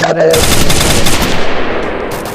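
Rapid automatic gunfire in a sniper-equipped shooting video game, a loud dense burst of shots lasting a couple of seconds.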